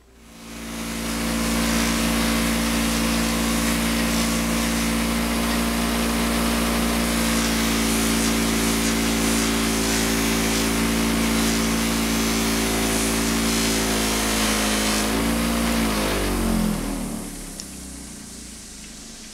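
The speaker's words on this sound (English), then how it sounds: "Well, polishing these bolts up will be one more little detail." Motorcycle bolts being buffed to a polish on a power wheel, giving a loud, steady motor whine and hum that holds for about fifteen seconds and then winds down.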